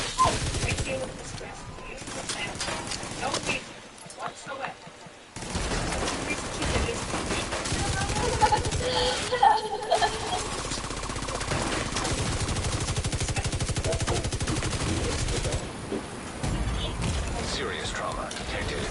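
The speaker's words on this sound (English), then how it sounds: "Rogue artillery turret." A rogue artillery turret fires in The Division 2, loud bursts of rapid gunfire and blasts with brief quiet gaps, mixed with voices and game chatter.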